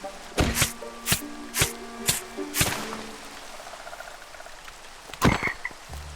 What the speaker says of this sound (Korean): 개구리다 개구리